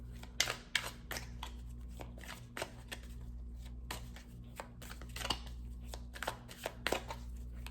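Tarot cards being gathered and picked up in a group, giving a series of light, close papery taps and slides at irregular intervals over a low steady background hum.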